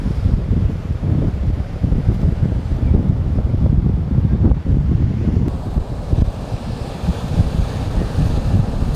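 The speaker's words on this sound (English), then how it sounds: "Those are some pretty big waves coming in." Big waves breaking on a windy Outer Banks beach at Kitty Hawk, North Carolina, a loud continuous roar of surf mixed with heavy wind buffeting the microphone.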